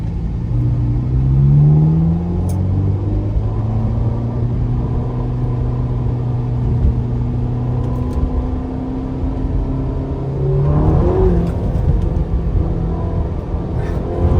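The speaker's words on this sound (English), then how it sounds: "I'm driving a Ferrari" Ferrari GTC4Lusso T engine rumbling steadily and loud throughout a drive, with a swell in revs around the middle and end, no talking.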